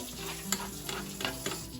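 Gravy is stirred in a hot pan, a soft sizzle running under a few quick scraping strokes of a utensil, close and fairly quiet with no talking.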